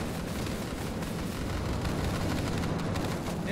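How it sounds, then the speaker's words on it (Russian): Bombs dropped from an aircraft in the video game Ravenfield, a continuous loud rumbling roar of blasts with no clear gaps, dense low-end boom throughout. "Короче, сейчас летим и взрываем их все. Закидываем бомбами."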